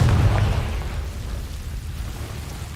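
Hogwarts Legacy's Confringo fire spell bursts in a heavy, close explosion right away, its deep rumble fading into a crackling tail over a couple of seconds, without speech.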